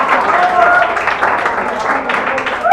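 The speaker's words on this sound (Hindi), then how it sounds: "ताली बजा दी है इसके लिए" Students in a coaching class clap together, a scattered, continuous patter of hands lasting a few seconds, mixed with voices talking over it.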